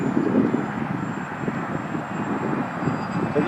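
A small RC plane with a 2212-6 motor and 6x4 prop flies at a distance, producing a steady airy buzz and drone mixed with wind noise, never rising to a sharp whine.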